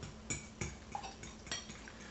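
A utensil clinks against a bowl while eggs are beaten with a little cinnamon, a few quiet separate taps and scrapes with no one talking.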